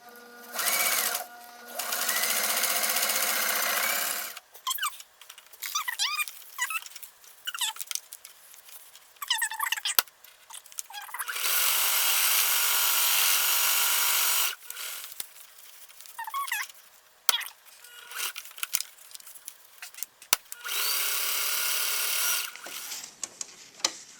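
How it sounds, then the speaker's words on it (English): A sewing machine runs zigzag stitches through fabric for DIY packing cubes in several loud close bursts of fast whirring, separated by pauses filled with handling clicks and fabric rustle. "I think I'm going to be doing this with a zigzag stitch"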